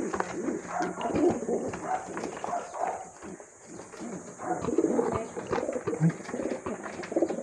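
A blue bar racing pigeon hen coos in soft, repeated low calls across the whole stretch, close by, with faint background rustling and no talk.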